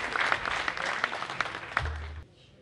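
Audience applause at a congress of the FFCC in Fontvieille, a dense sustained clapping from a large crowd that cuts off abruptly near the end.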